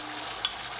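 Coconut milk reducing in a hot pan gives a continuous soft sizzle, with two faint scrapes of a stirring spoon over a brief moment.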